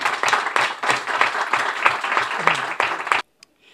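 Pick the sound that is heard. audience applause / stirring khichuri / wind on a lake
audience applause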